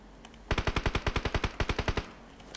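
Automatic rifle fire in the battle royale game PUBG comes as one rapid burst of about twenty evenly spaced sharp shots, loud and close, lasting around a second and a half against a quiet background.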